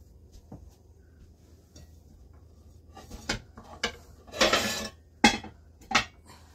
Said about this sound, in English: let me get my frying pan